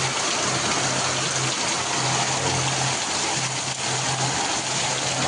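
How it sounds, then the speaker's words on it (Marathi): A torrential rain downpour roars steadily and loudly, like rushing water, constant throughout with a faint low hum underneath. "पाऊस जोरात आलाय."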